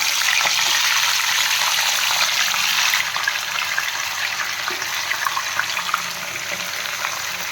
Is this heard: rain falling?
no